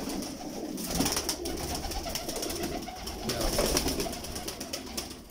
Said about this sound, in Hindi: ये दोस्तों कबूतर जिसका अभी आपको शौक करवाया